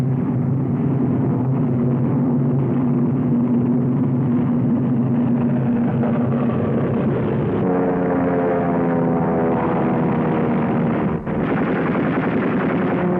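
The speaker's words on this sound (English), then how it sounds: "American P-38 rise to the attack." American P-38 Lightning fighter planes take off from a WWII Allied airfield, a loud continuous engine roar with a droning pitch that shifts partway through and never lets up.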